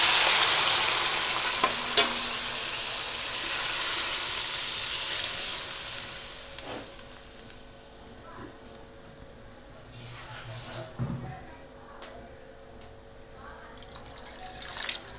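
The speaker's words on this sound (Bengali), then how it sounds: "এবার দিয়ে দেবো জল, পরিমাণ মতন জল দিয়ে দেবো।" Water is poured into a pan of frying rohu fish kalia, the loud sizzle and bubbling rising at first, then easing to a quieter simmer with occasional stirring clinks.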